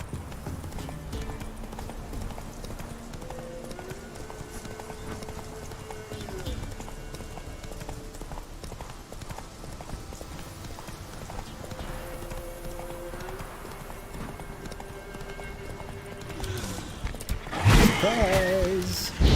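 Hooves of the horse Roach clip-clop at a gallop in The Witcher 3, a steady rapid drumming under game music with a voice speaking, ending in a sharp burst of noise.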